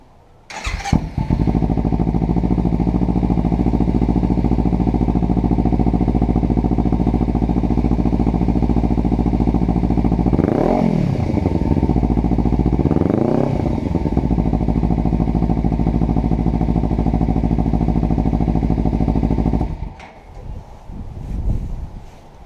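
A Kawasaki Ninja 300 motorcycle engine with a Two Brothers exhaust sputters to life, then idles with a loud steady rumble, revving twice sharply midway before cutting off near the end.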